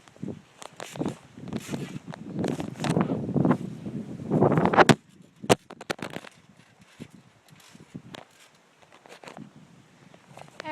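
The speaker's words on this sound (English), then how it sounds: "Let's just wait until it's really windy, like right now." Strong gusts of wind buffet a phone microphone outdoors on a windy day, with loud rumbling bursts for about five seconds, then scattered sharp knocks and quieter rustling.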